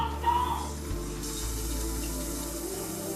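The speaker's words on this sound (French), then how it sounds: "L'eau est en train d'arriver." Water rushes steadily from a returning tap or spring source in Guadeloupe. The flow is a continuous, moderately loud hiss and gurgle, with a brief bump near the start.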